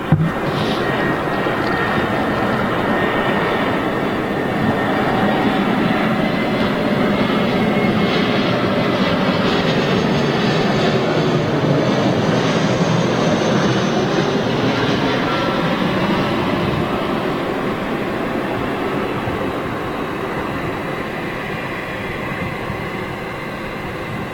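A British Airways Airbus A320 jet roars steadily at Manchester Airport, a sustained broadband engine rumble with whining tones that stays loud and even throughout, with no voices.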